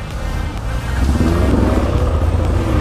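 A motorcycle engine idling and running nearby, a loud low rumbling throb that swells slightly after the first second and holds steady, with no speech over it.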